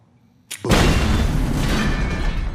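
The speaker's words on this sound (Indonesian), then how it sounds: "Vander pun mengebom jeruji besi untuk menuju brankas" A film explosion blasts through iron bars on the way to a bank vault: a sharp crack, then a loud, sustained rumbling roar with debris that fills the rest of the moment.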